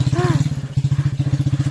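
A trail motorcycle's engine chugs in a rapid, even rhythm of loud low pulses, close and steady throughout, with a brief whiny rise near the start.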